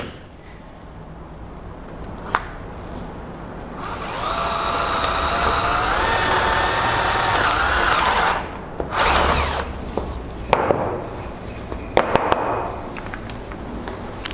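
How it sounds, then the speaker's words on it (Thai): An electric drill whines loudly for several seconds as it bores through wood, then a couple of short bursts follow, with taps and knocks around them. "ก็เอาไม้นะครับมาเจาะรูสว่านขนาดตามที่ผมต้องการได้เลยนะครับ"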